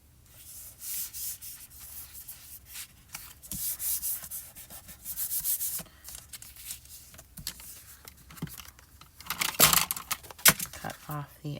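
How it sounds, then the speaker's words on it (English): Adhesive backing is peeled off a die-cut crafting sheet in soft scratchy rustles and crackles, with a few sharper tearing bursts toward the end, close and quiet. "So I'm just going to peel off this side here."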